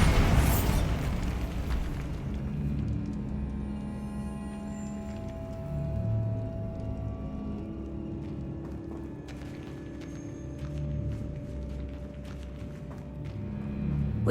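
The Bombarda spell in Hogwarts Legacy detonates with a loud burst at the start, then a long rumbling, crackling tail of debris and low booms that fades over several seconds.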